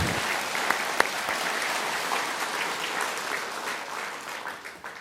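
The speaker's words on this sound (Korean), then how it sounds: "우리 아버지 하나님께 영광의 박수를" A church congregation at a Christmas service claps together in steady, dense applause, loud and sustained through the moment and tapering slightly toward the end.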